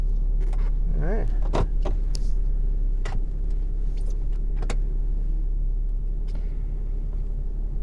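A 2018 Ram 3500 Mega Cab dually limited edition with the 6.7 diesel, fully loaded, heard from inside the cab while driving: a constant low rumble with scattered clicks and ticks, and no clear speech.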